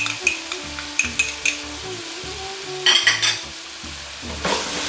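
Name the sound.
ginger garlic paste frying and being stirred in pan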